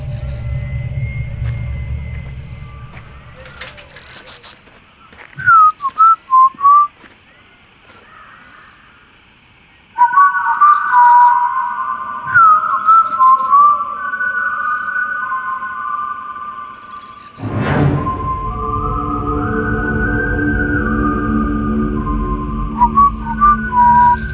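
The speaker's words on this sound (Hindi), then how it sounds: "सीटी कौन बजा रहा है?" Someone whistles in short, sliding, tuneful phrases, heard in scattered bursts over a rumbling background and stretches of near silence, with occasional clicks and knocks between them.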